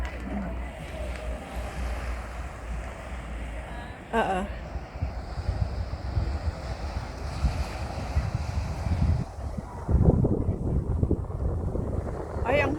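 Strong wind buffets the microphone with steady low rumbling gusts at Middle Bay near Repulse Bay, Hong Kong, joined by faint surf-like wash in the background.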